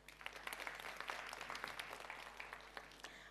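A forum audience in Soweto gives a round of applause, heard faint and distant as a steady wash of many hands with scattered sharper claps throughout.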